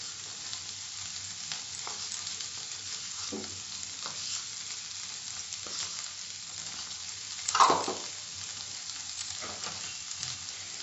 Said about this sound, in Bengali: মশলাটা ভালো করে কষে নেব মিডিয়াম ফ্লেমে।